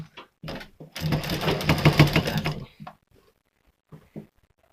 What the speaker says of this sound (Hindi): सीधी सिलाई लगाएंगे